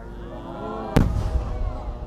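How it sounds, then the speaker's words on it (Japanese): A size 10 warimono fireworks shell bursts at the Akagawa fireworks festival, a single sharp boom about midway followed by a rumbling tail over steady crowd and ambient noise. "割り物花火の分10号2発"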